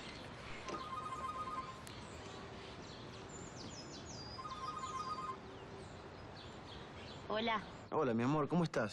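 Telephone rings in repeated electronic bursts in an indoor domestic scene, moderately quiet, with bird-like chirps around it and a voice speaking near the end.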